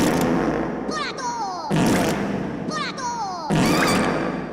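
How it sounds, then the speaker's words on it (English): A fart gun salute sound effect, several loud, blaring fart blasts fired in a regular volley, each ending in a squeaky trailing whine, close and prominent with no speech over it. "The 21 fart gun salute!"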